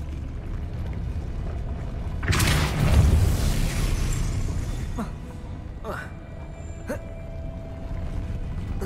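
A Depulso spell blast from Hogwarts Legacy lands as one loud booming burst, followed by a rumbling tail and a few short sharp magical zings against a steady ambient bed.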